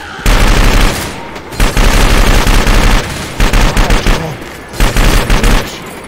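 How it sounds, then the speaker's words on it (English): Mounted machine gun in Left 4 Dead 2 firing in loud, rapid bursts of about a second or two, separated by short pauses, close and dominant. "Taking the machine gun."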